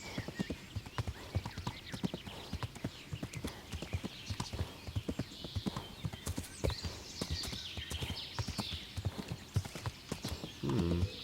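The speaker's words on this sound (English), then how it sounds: "It's one of my favorite parts of this game, just riding through the forest" Steady clip-clop of horse hooves at a brisk, regular rhythm while riding through a forest in Kingdom Come: Deliverance, close and prominent over a soft ambient bed, with a brief louder burst at the end.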